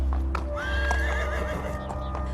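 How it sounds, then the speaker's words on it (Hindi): A horse carries its rider off at a steady clip-clop of hooves, with a whinny rising partway through over a dense, continuous backdrop of sound. "बलजीत एक नए आत्मविश्वास के साथ अपने घोड़े पर सवार होता है"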